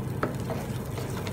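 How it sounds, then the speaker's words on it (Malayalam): Thick tomato chutney stirred in a pan on the stove, a continuous soft scraping and bubbling sizzle with a few louder strokes of the spoon, close and steady with no talking. "കൈ എടുക്കാതെ ഇളക്കി കൊടുത്തുവെച്ചാൽ മതി"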